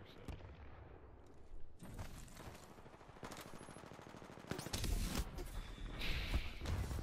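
Gunfire in Titanfall 2 while a sniper is taken out, with scattered bursts and rapid automatic shots building into heavier volleys and thuds over a rumbling game soundscape.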